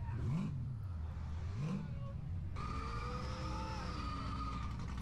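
A modified car at Summernats revs hard twice in quick succession, each rise and fall clear, then settles into a steady higher-pitched engine drone for the rest.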